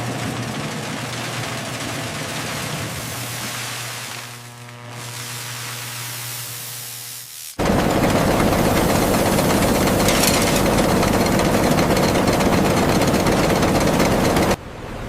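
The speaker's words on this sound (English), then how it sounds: "Granulator Unit 4 is primed and fully active, increasing rotor speed to 1500 RPM." Granulator rotor in a floor tile factory spinning up to speed: a low droning hum with steady tones gives way to a sudden, much louder broadband roar that holds steady, then abruptly cuts off near the end.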